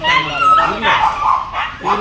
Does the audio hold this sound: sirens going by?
no